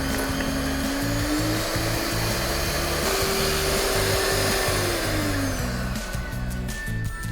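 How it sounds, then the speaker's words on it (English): An electric hand mixer whirs steadily, beating sugar and eggs into a light, airy batter for Thai malpua, its motor pitch wavering slightly as it runs close and loud without any talk. "once the sugar and eggs have been beaten well, we can add the dry ingredients"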